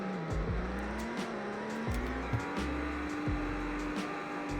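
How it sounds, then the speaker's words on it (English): Engine drone of a BMW in the Roblox driving game during a hard braking test, a steady rising tone with repeated low thumps and tire-like squeals, loud and close with no voices. "here's a braking test in the BMW"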